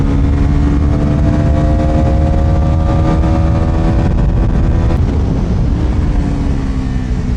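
A Bajaj Pulsar NS400Z motorcycle being ridden slowly over a bumpy road, its engine giving a loud, steady drone close by with a slight rise and dip in pitch and no talking.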